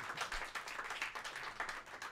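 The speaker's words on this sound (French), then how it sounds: "on peut l'applaudir" A small audience at a live talk show claps for a sponsor, a soft, even patter of many hands heard from a distance, faint and steady throughout without voices.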